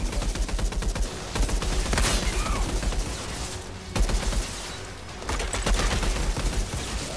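Repeated shotgun blasts in the looter-shooter game Outriders, loud rapid reports in close succession over a busy combat background, with a few sharp peaks standing out.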